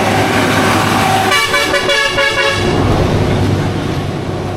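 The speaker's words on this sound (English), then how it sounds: "School bus." A school bus in a Puerto Rican jungle area sounds its horn, a loud sustained toot over rumbling engine noise, close by and alone without talk.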